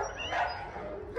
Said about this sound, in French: Elle va me faire japper tous les chiens.